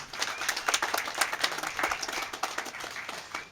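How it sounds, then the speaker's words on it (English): An audience at a police memorial ceremony claps for a national anthem singer, a short burst of fairly close, uneven individual claps from a modest crowd. "Give her another round of applause"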